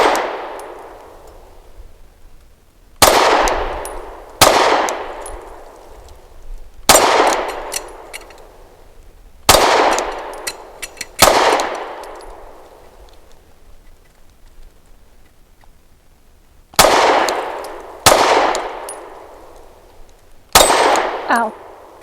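Pistol shots from a Canik METE MC9L striking a small moving steel target, a series of loud sharp reports each followed by a ringing metallic clang that decays slowly, some shots closely paired, others spaced several seconds apart.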